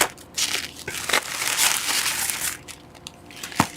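Crinkling and crumpling of wrapping around a Halloween swap package as it is unwrapped by hand, close and continuous with sharper crackles throughout, no voices.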